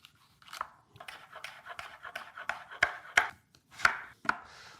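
A knife chops vegetables into small cubes on a cutting board for paella. The crisp, close taps start sparse and grow louder and quicker, with no talking.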